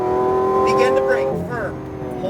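A Lamborghini pulls hard at full throttle on a race track, its engine note climbing steadily and loud throughout, with voices talking over it.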